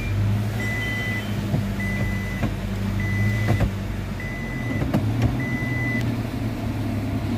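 Automatic Toyota Innova engine idling steadily with a low continuous hum, while a regular series of short electronic beeps sounds over it at even intervals.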